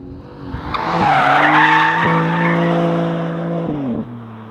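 A 2025 BMW M3 CS Touring estate runs at around 120 mph, its engine holding a loud, steady tone with quick gear-change dips and tyre roar in the cabin.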